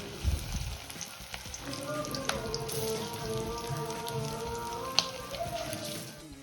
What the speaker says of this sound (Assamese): ইয়াত গৰম হোৱাত মাছখিনি দি দিলোঁ